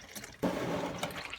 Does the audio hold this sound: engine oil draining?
yes